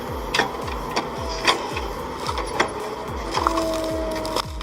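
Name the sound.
hydraulic stump shear clamping, twisting and lifting a tree stump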